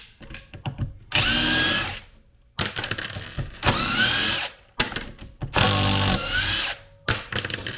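A Ryobi cordless drill whirs loudly in repeated bursts of a second or two each, separated by short pauses and clicks, close to the listener with no talking.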